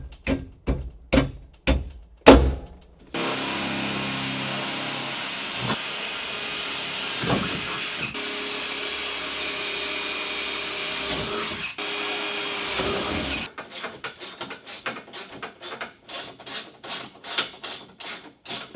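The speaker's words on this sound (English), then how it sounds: "then I can start drilling and bolting them in" Power drill and bolting work fitting canopy brackets onto a 4x4 touring vehicle, with a run of short sharp bursts, then one long continuous loud drilling stretch, then more rapid intermittent bursts near the end, no talk.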